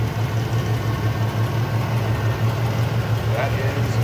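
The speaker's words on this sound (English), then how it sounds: "Really nice idle." A 1977 Pontiac Grand Prix with a 350 four-barrel V8 idles steadily, a smooth, even low rumble heard close up and continuously, with a person speaking faintly over it.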